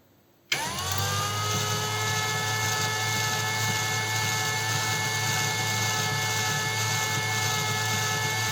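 A DRIVAK ED002 cordless screwdriver starts abruptly and spins at a steady speed under test, a continuous high whine with layered motor tones that holds unchanged and close to the end, without talk.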